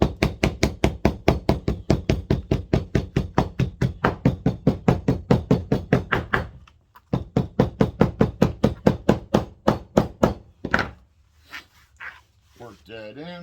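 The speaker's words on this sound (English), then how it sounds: "Now you can take your hammer." A hammer strikes a leather holster for a .357 Magnum revolver with a 3.5-inch barrel in a fast, steady run of close, sharp knocks, a brief pause, then more blows tapering off.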